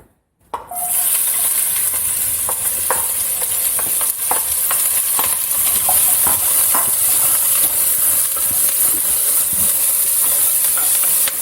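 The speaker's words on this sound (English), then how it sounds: "And then we're gonna add the chopped onion." Chopped onion dropped into hot olive oil bursts into a loud, steady sizzle that hisses on without pause, with a few light scrapes of stirring in the pan.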